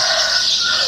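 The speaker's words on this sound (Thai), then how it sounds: "เพื่อนๆได้ยินเสียงไก่ขันมาค่ะ" A rooster crows in the morning air, a brief, bright, sustained call that is fairly loud and heard alone.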